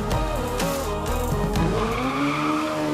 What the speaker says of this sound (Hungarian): a hallgatók által tervezett autók már a pályán versenyeznek